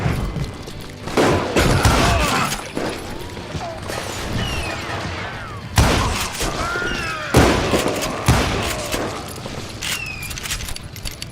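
Gunfire in the Western shooter Call of Juarez: Gunslinger, with loud, close bursts of shots in uneven clusters, several sharp heavy blasts standing out, and metallic clinks and rattles between the volleys.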